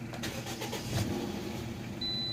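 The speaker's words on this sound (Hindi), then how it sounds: "अभी गाड़ी को मैं सेल्फ लगाता हूँ" Toyota car engine cranked on the starter and catching, with a quick run of starter whirr pulses followed by a steady idle, heard close and alone.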